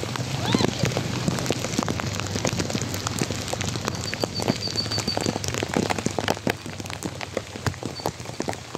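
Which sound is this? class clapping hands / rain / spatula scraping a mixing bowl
rain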